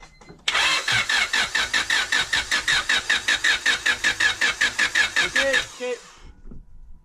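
Honda D16 engine cranked with the key during a compression test: a starter-driven whir with a fast, even pulse of compression strokes for about five seconds, close and loud, then stopping with a faint voice after.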